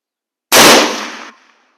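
One loud, sharp shot from an Enfield No. 4 Mk 1 WW2 military surplus rifle cracks close by and tails off in a short echo, alone with no talking.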